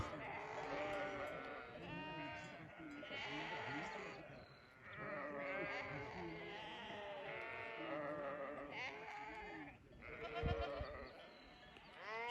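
A herd of wild goats and sheep bleats steadily near a salt lick in the windy Nurhak Mountains, with overlapping wavering calls throughout and a brief low rumble near the end.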